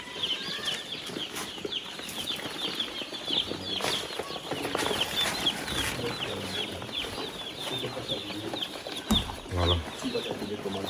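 Crowd of newly delivered chicks peeping continuously in a brooding house on a poultry farm, a dense high chirping chorus with occasional fluttering and rustling close by, no talk.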